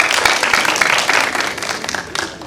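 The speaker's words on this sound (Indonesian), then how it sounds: "Boleh minta tepuk tangan yang sering sholat?" An audience claps in response at a stand-up comedy show, a burst of applause that rises quickly, holds with scattered individual claps, and gradually thins toward the end.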